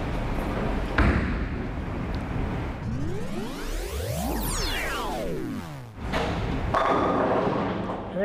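A bowling ball rolls down a lane for several seconds with a steady rumble, then crashes into the pins with a loud clatter of scattering, ringing pins before the sound settles.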